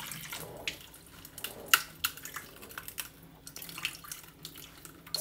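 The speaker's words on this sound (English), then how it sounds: "Give it a little bit of hot water." Hot water runs from a tap over a frozen smartphone, a faint, hissing wash broken by small irregular clicks and taps.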